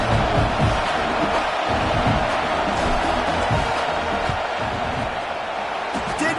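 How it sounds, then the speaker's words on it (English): A football stadium crowd roars in a dense, sustained wall of noise ahead of a field goal attempt, loud and continuous with faint cheering and whoops mixed in. "This crowd trying to do its part to get inside the kicker's head."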